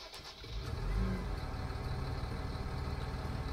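A farm machine's engine revving in Landwirtschafts-Simulator 19, a low, steady rumbling drone that swells slightly early on and then holds at an even, moderate level.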